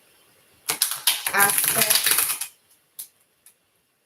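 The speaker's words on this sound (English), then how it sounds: "One more shuffle." Tarot cards are shuffled: a close, loud run of rapid riffling and flapping lasting about two seconds, then a few separate taps and soft thumps as the deck settles, with a brief spoken word over the shuffle.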